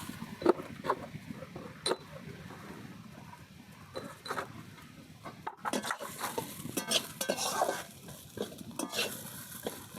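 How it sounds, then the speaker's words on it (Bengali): Mashed jackfruit seeds with salt, cumin powder and chopped coriander leaves are stirred and pressed in a dish, making soft, irregular scraping and clicking sounds up close, fairly quiet, with no talk. "সব কিছু দিয়ে আমি ভালোভাবে নাড়বো"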